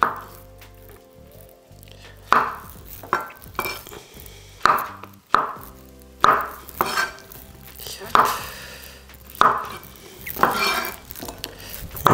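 A knife quartering mushrooms on a cutting board, about a dozen sharp, close chops at an uneven pace, each followed by a brief ring, with faint kitchen clatter between strikes and no speech.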